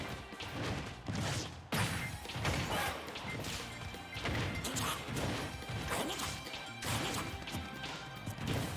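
Heavy impact hits and crashes from fighting-game attacks, a forward smash in Super Smash Bros. Ultimate with Ridley and Pikachu, come as a dense run of loud, repeated smacks over steady game sound.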